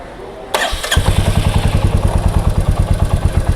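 A Royal Enfield Meteor 350 motorcycle fires up with a quick starter whirr, then settles into a loud, close, steady single-cylinder exhaust thump at a regular idle beat.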